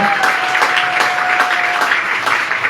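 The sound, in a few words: congregation applauding in church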